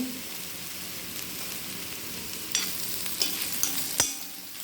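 Jackfruit seeds and hot grated coconut are stir-fried in a pan for a Kerala-style upperi. A continuous sizzle carries a few sharper scrapes of a spatula toward the end, with no talk.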